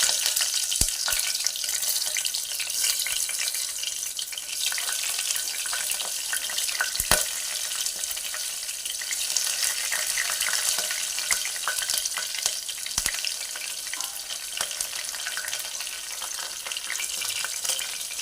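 Sliced okra fries in hot oil for a curry, producing a dense, steady sizzle and hiss with occasional louder pops, continuous and close throughout.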